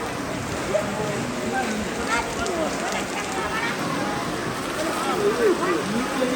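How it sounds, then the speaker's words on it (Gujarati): Heavy rain falls steadily outdoors in the Surat region of Gujarat, a dense, constant patter and hiss with voices faintly present beneath it. "बारिश स्टार्ट हो चुकी है भाई"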